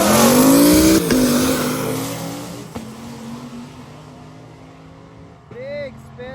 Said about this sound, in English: Big spin there from the stick shift car